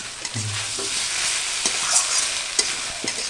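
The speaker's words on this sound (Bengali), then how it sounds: "কিছু মশলা আমি এই সবজির সঙ্গে ভেজে দেবো" Pumpkin and carrot fry in a pan with ginger and green chilli paste, a busy sizzle punctuated by repeated scraping and clinking of a spoon as the mixture is stirred.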